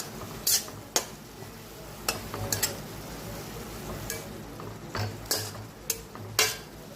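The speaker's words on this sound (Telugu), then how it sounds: "ఇందులో వాటర్ పోయేంత వరకు బాగా కలుపుతూ ఉండాలి" Mint chutney being stirred in a pan on the stove, with a soft steady sizzle and repeated sharp scrapes and clinks of a spoon against the pan, close and fairly quiet.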